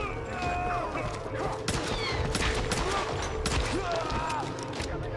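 Gunfire in the Tomb Raider video game comes as a dense burst of loud, close shots and impacts with crashing debris, layered over busy game effects.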